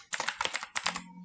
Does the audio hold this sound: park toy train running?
no